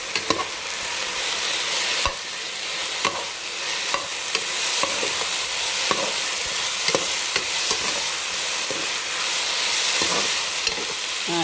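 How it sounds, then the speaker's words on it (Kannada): Ghee sizzles steadily in a pan as Kashi halwa is stirred, a constant crackling fry broken by repeated scraping and clicking strokes of the spoon, close and continuous throughout. "ಇನ್ನೊಂದು ಸ್ಪೂನ್ ನಾನು ತುಪ್ಪನ ಸೇರಿಸ್ತಾ ಇದ್ದೀನಿ"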